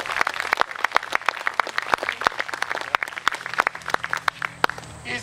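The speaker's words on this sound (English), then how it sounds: "Let's all cheer for Dale winning 45 filters." A Lutheran church congregation at a Rally Sunday service claps, sharp individual hand claps spread through the room at an uneven rhythm, fairly close and clear for several seconds.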